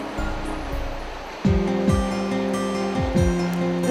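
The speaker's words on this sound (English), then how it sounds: "The sound of Rapid Creek, which runs through the entire property, creates a soothing background melody" Rushing water of Rapid Creek, running through a property in Dark Canyon, gives a steady broadband wash; partway through, a lower tonal hum with swooping pitch changes enters over it, like a passing motor.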